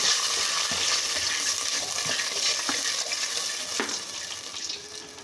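Water poured into a hot pan holding a tadka for daal chawal, before rice is added, a steady loud hiss and sizzle with faint stirring clinks, and no voices.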